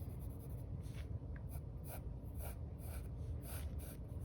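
A pencil or pen drawing a line on paper, a series of soft scratchy strokes in an irregular rhythm, close and quiet with no talking.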